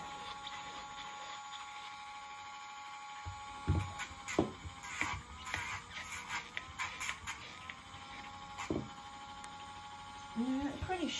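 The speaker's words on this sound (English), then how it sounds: "it's a cordless Dremel. And I have it on a very low speed because it really doesn't need to be too high" A cordless Dremel on a low speed grinds the nails of an 18-week-old Akita puppy, a steady high whine broken by short, rougher grinding bursts as it touches each nail, recorded up close.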